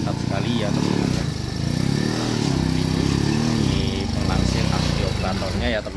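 A small motorized three-wheeled cart works on flat ground at an oil palm plantation, its engine running steadily with a chugging, slightly rising and falling drone, close by, while a person talks over it.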